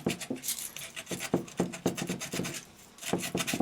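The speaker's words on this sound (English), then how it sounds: "you rub the aluminium foil" Aluminium foil dabbed with WD-40 rubbed back and forth over rusty metal on the rear plate of a Roland R-8 drum machine, a steady series of close scratchy rasping strokes with no talk.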